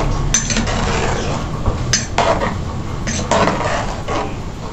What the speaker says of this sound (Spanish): Vamos a revolver.